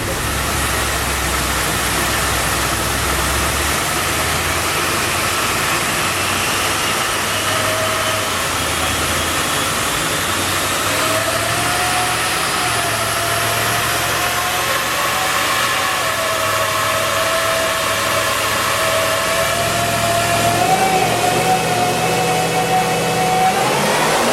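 A 650 rwhp automatic E3 Senator runs at quarter-to-third throttle with its wheels spinning: a loud, continuous engine drone whose pitch gradually climbs, with no voices over it.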